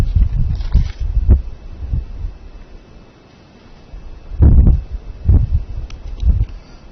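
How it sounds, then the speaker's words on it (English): Gusty wind buffeting a microphone on an open safari vehicle at Thornybush Nature Reserve, low rumbling thumps coming in uneven bursts, loud and close, with no talking. "Quite a strong wind coming in from the north"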